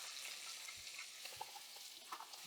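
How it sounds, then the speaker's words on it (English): Onion stir frying in a hot pan for a chicken bulgogi udon, a steady close sizzle with occasional scrapes and stirring bumps, no voices. "Again, we are now just stir frying."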